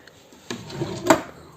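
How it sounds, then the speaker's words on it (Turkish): A small drawer in a student's room cabinet slides and bumps shut, a few soft wooden knocks and a brief scrape heard close and quiet. "Çekmecesi var burada."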